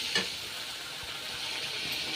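Ground spice masala with cumin powder fries in a pan, giving a steady, fairly quiet sizzle that continues throughout, with a brief scrape near the start.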